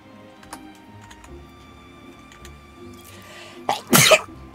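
A single loud sneeze close by, a short sharp burst near the end, with faint ticks and a quiet room hum before it during a Final Fantasy XIV livestream.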